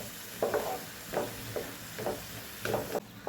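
Grated carrots cooking in ghee with milk on a medium flame are stirred in a pan, about six soft, evenly spaced scraping strokes over a continuous low sizzle, heard up close without talking.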